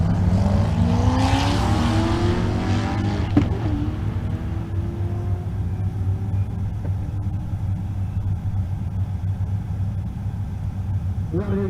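A stick-shift Corvette drag racing down the track at Race Week in Kearney, Nebraska, its engine roaring loudly through rising gear pulls then fading into a distant rumble, with a commentator talking over it.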